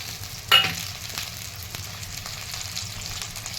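Ginger and garlic fry with browned onions for dhaba-style dum aloo: a sharp clatter as they drop in, then a soft steady sizzle throughout.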